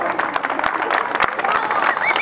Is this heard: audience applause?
yes